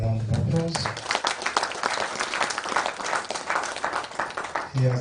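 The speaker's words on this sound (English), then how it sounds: "Let us give our VC another round of applause." A university research conference audience gives a round of applause to the vice-chancellor, dense clapping from a large hall that swells and continues, with a voice speaking briefly at the start and end.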